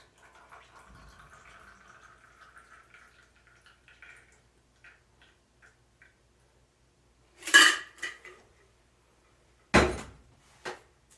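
A golden cocktail trickles thinly and faintly through a bar strainer into a glass for several seconds, followed by a few sharp, loud glass and metal clinks.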